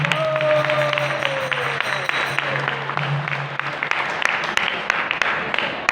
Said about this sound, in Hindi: जोरदार हाथों से तालियों का सेवा।